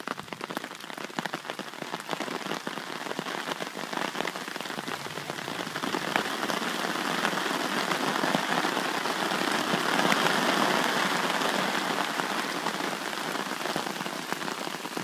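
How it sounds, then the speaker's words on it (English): Steady rain patters densely on a taut tarp over a hammock outdoors, growing a little heavier partway through, close and enveloping with no talking. "Love the sound of rain out here."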